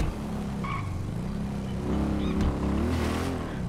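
A motorcycle engine drones steadily while riding through the city in GTA 5, its pitch rising and wavering as it speeds up, with a brief tire-like squeal mid-ride; continuous and fairly loud.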